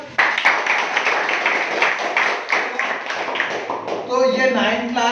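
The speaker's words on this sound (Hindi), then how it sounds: "वेरी गुड, ताली बजाओ।" Students applaud together in a Hindi-speaking ninth-grade classroom: a dense run of close, rapid claps for about four seconds, then a voice speaks.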